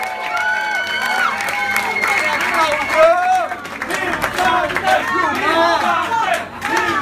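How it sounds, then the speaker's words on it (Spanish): A crowd at a live blues band concert in a bar claps and cheers loudly, with shouting voices and lively chatter mixed over the applause for the whole stretch. "Un aplauso grande para ustedes y para René, 20 años, compadre."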